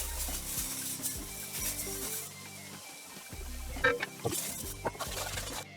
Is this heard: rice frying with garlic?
yes